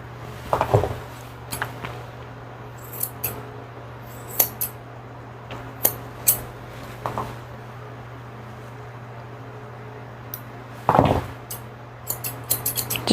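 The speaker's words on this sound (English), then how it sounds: "I'm going to go ahead and take my curved scissors," Curved scissors snip the ear fur of a Bichon-Poodle mix puppy, giving short crisp metallic clicks in scattered bursts, some in quick pairs, close by over a steady low hum, with no speech.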